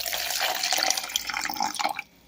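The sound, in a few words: filtered water poured from the fridge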